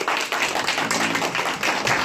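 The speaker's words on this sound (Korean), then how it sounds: "우리 조성경 리더님께 다시 한번 큰 박수와 감사 인사 부탁드립니다" An audience claps after a lecture in a hall, a brief burst of dense, continuous applause with no gaps.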